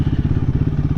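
Royal Enfield Himalayan 450 engine running with a steady, loud, pulsing throb and a rough, uneven rhythm, heard close up with no talk.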